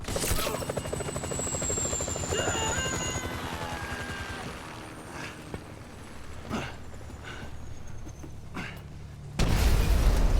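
A helicopter in the video game GTA 5 makes a steady, droning rotor noise throughout, broken by a few sharp bangs and pops, with a louder burst of noise at the very end.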